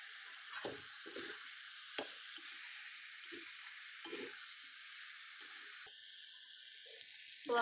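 Paneer curry is sautéed and stirred in a pan, with soft sizzling and intermittent scraping and squishing strokes, fairly quiet and close, with no talk.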